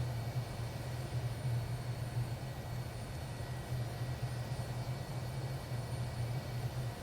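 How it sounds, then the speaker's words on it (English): A Boeing 757-200 with Rolls-Royce engines runs in a flight simulator, giving a steady, moderate jet engine drone with a constant low hum and an even broadband whine throughout. "We have a good engine start"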